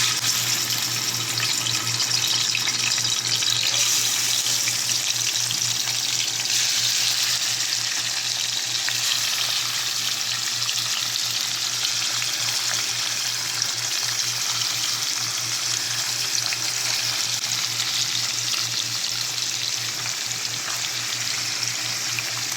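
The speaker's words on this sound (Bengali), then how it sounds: "যখন মাছটা বাদামি কালার এসে যাবে মনে হবে যে আপনার হয়ে গেছে প্রায় ভাজা" Fish fries in hot oil with a continuous, even sizzle and faint crackling, steady throughout with no voices.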